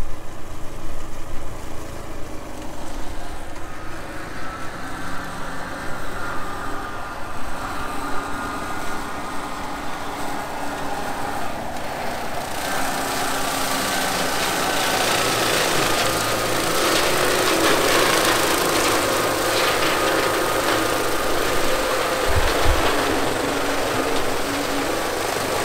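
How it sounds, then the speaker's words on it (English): A tractor-mounted hedge cutter works along farm hedges as a steady engine drone with a whirring flail, growing louder and harsher about halfway through as the machine draws nearer, then running on continuously without talk. "It's that time of the year again on the farm where the hedges need trimming."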